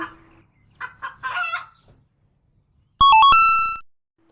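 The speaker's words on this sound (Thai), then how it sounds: "ต่อไปคือแม่ไก่ เรามาดูกันสิคะ ว่าแม่ไก่อยู่ที่ไหนเอ่ย" A few short, soft clucks, then a loud, buzzy hen cackle that rises and drops in quick steps before cutting off.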